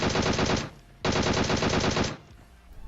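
Automatic gunfire in the video game PUBG Mobile: two loud sustained bursts of rapid shots, the first about half a second, the second about a second long, each trailing off, with no talk.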